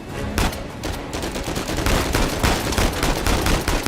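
Gunfire during a sea battle aboard a boat in Uncharted 4: dense, rapid automatic bursts and shots crack loudly one after another, with no pauses.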